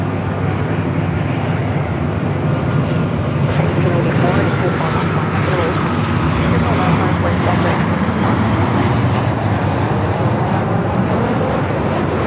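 A jet airliner's engines roaring on takeoff from runway 24 left at Los Angeles International Airport, a loud, dense, continuous rumble that holds steady throughout.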